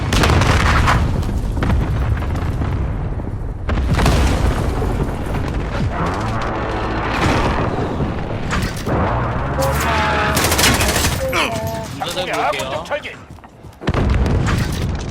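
Explosions from airstrikes and cluster munitions mix with steady gunfire during a 20-player Domination match in Call of Duty: Modern Warfare on PS4. The booms and bursts are loud and dense, and game voice callouts sound over the combat.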